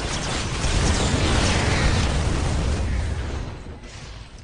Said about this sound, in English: whap taking out his own barracks